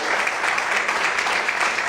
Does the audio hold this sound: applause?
yes